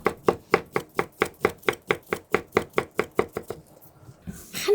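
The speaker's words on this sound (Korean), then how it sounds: "냉동실에서 나온 지단을 돌돌돌 말아요. 그래갖고 썰어요." A knife chops through a rolled sheet of frozen thin egg omelette on a cutting board for japchae garnish, giving a steady, fast run of about sixteen sharp close taps before stopping.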